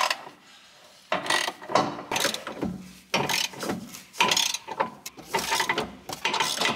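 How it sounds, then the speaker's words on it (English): Ratchet tightening new bolts on the rear shocks of a BMW E39 540i, heard as repeated bursts of rapid mechanical clicking separated by short pauses, close and clear with no talking. "Our next task is to tighten the bolts on the shocks themselves."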